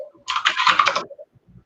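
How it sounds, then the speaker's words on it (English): Computer keyboard typing heard up close, a quick burst of clattering keystrokes lasting under a second, followed by a couple of faint isolated taps. "I just heard your keyboard"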